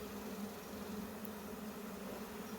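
A honeybee swarm gives off a steady, faint, continuous buzz, an even drone that never breaks.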